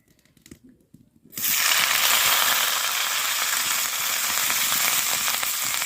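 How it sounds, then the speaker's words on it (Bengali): Dried fish, including puti, dropped into hot oil bursts into a loud, dense, crackling sizzle after a brief quiet moment, continuing steadily and close with no voices. "এখানে তেল গরম হয়ে গেছে এখন মাছগুলোকে আগে দিয়ে দিব"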